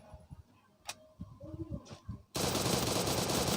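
Rapid automatic gunfire from the Free Fire mobile battle royale game, a dense sustained burst of shots that starts abruptly partway through and continues loud to the end after sparse quieter clicks and thumps.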